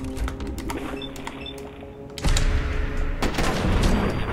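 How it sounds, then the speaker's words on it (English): A modded assault rifle fires in Fallout 4's Far Harbor at attacking creatures: scattered sharp shots at first, then denser, louder rapid bursts of gunfire in the second half. "taking them out with the uh, modded assault rifle"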